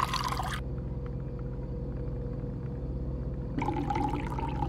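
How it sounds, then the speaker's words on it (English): Tap water running from a kitchen faucet in the Fears to Fathom horror game, a steady hollow rush of flowing water with a low rumble, starting and stopping abruptly. "Get some tap water."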